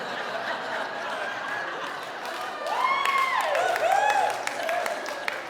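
A comedy show audience laughs and claps at a low level, a scattered ripple of chuckles and applause that swells briefly and then fades. Someone speaks over it.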